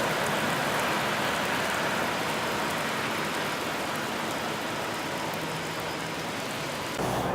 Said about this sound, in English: Oh, look at all that torrential rain.